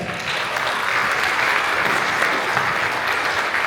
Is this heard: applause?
yes